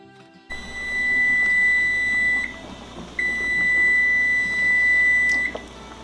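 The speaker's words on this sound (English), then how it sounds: "Timer went off" A kitchen timer beeps with a steady high electronic tone in two long bursts separated by a short gap, heard clearly and alone while lasagna cooks.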